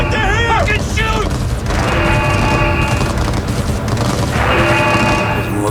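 Chaotic gunfire and booms in Cyberpunk 2077, a dense loud barrage mixed with game effects and tonal sirens, with voices shouting over it.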